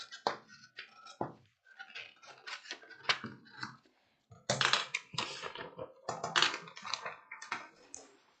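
Scissors cut a fabric pocket piece for elastic-waist pants, making a close series of crisp crunching snips and rustles in bursts with a brief pause midway, with no talking.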